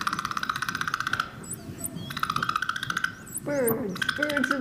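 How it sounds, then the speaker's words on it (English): Humpback-style whale song sped up so it resembles birdsong: bursts of rapid, high, buzzy pulsed calls alternate with sweeping chirps and whistles, loud and close, over a constant low rumble. "This is a whale. Also, the recording has simply been sped up."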